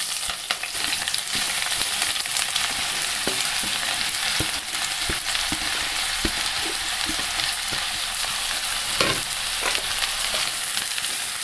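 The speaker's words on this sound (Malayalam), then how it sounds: "ചൂടായ എണ്ണയിലേക്ക് സവാള ചേർക്കാം." Sliced onions sizzle in two tablespoons of hot coconut oil in a pan for mutton biryani, a dense, steady close crackle with occasional stirring clicks, loud and unbroken, no voices.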